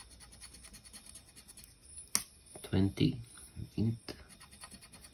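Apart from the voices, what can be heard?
scratching lottery scratch tickets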